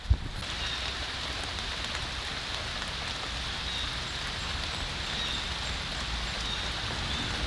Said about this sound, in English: the sky opens up and it just starts raining on you